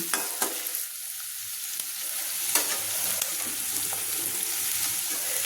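Chopped onion and garlic fry lightly in a pan for a cabbage stir-fry, giving a steady close hiss of oil with a few sharp clicks and scrapes from stirring early on.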